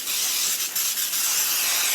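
Cooking spray hisses steadily into a 9x13 baking dish in a home kitchen, one continuous close aerosol burst lasting nearly two seconds, with slight pulses in pressure and no talking.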